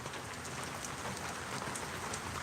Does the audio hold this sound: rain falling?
yes